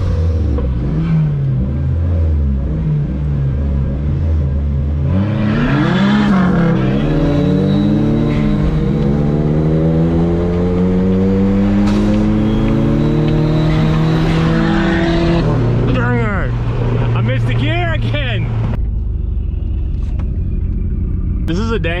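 A Dodge SRT4 and a Mitsubishi Eclipse GSX drag racing, with loud engines revving up through rising gear pulls and shifts, heard close and continuous, then fading as the cars pull away, with people talking over it.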